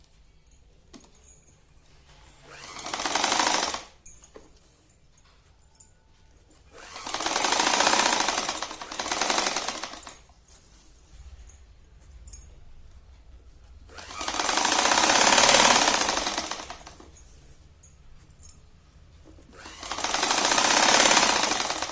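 A sewing machine stitches a sari seam with a 1.5-inch allowance, running in four separate close bursts of rapid whirring, each a few seconds long, with quiet pauses between them and no talking.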